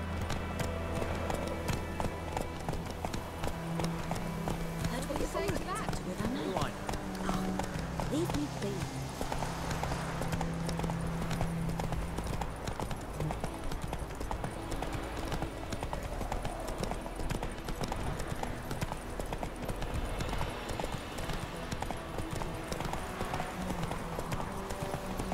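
Horse hooves galloping in The Witcher 3, a steady fast clip-clop running throughout under in-game dialogue and background music.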